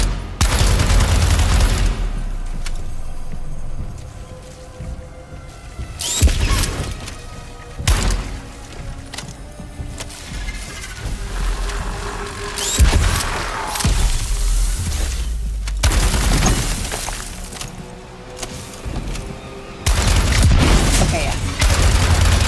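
Gunfire in Daymare: 1994 Sandcastle as a player shoots pylons, repeated loud weapon blasts and bursts with heavy booms and impacts throughout, a voice talking now and then amid the shooting.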